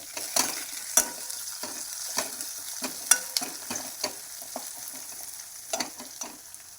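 Two bay leaves sizzle in hot oil over a spiced paste for a Maharashtrian pea curry, a soft crackle broken by sharp spatula scrapes and taps against the pan at uneven intervals.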